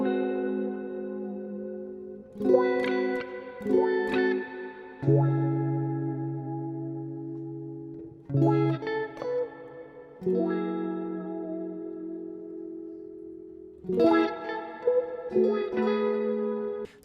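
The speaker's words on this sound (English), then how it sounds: "now I'm going to just kind of play around with chords until I find a good chord progression over this drum loop." Guitar preset with chorus and echo effects strumming sustained chords in slow changes for an R&B beat, each chord ringing out and fading before the next, without any clear drum loop underneath.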